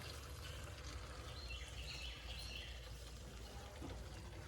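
Coolant is drawn under vacuum from a tank into the radiator hoses of a 2013 Chevrolet Silverado, a faint, continuous gurgling pour heard close by without talk.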